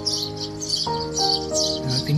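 A device near a power pole plays bird calls to lure birds into a trap, giving a quick run of high chirps and tweets over a faint tonal hum, moderately loud with no one talking.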